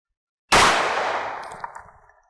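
A single loud gunshot from a 357 SIG pistol firing a 125 grain Speer Gold Dot round into a washing machine, with a sharp onset and a long ringing decay, a few faint clinks trailing behind.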